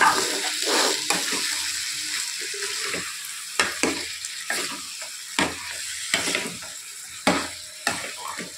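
A tomato and drumstick curry is mixed in a pan with repeated scraping strokes of a spoon, each stroke followed by soft bubbling and sizzling, in a rhythmic pattern roughly once per second.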